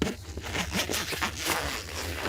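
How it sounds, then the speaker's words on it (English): A zipper on a freestanding vehicle awning for a Jeep Wrangler JLUR being drawn open in one continuous, close, ratcheting rip that lasts about two seconds. "I'll unzip it, and I'll show you just how quick they are to set up."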